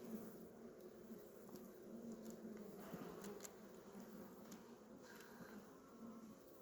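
Honeybees hum inside a hive in a dense, continuous drone, with a few louder buzzes passing close by.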